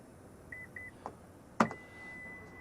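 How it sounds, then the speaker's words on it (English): Confirmation beeps from the power tailgate of a 2023 Honda Pilot EX-L SUV while its opening height is set: two short high beeps, then a sharper click-like tone and a longer steady beep, fairly quiet and close, with no talking. "you hold the button until you hear all the beeps"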